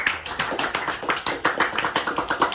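Group hand clapping at a school Survivor finale, a steady run of quick, fairly even claps going on without pause, moderately loud, with no talk over it.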